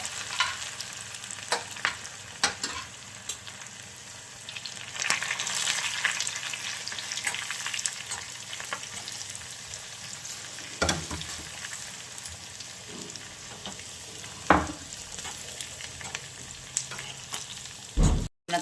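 Ginger, crushed garlic and two green chillies sizzle in a hot tempering of cumin and mustard seeds, a loud continuous crackling fry close by with scattered pops and a sharp clatter at the end.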